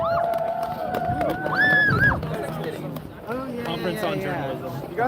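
A street protest crowd against police abuse in Longueuil: a busy hubbub of many voices with shouts and calls rising over a steady outdoor murmur, close by and continuous.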